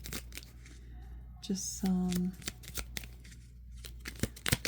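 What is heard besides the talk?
shuffling oracle cards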